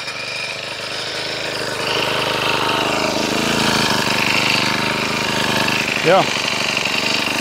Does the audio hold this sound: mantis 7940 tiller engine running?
yes